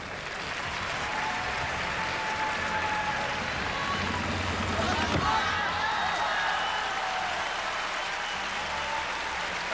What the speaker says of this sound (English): It's just simple applause and respect for what they just saw.